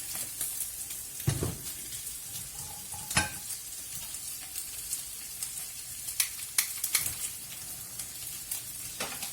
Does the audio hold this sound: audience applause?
no